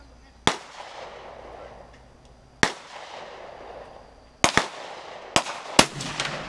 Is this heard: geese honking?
no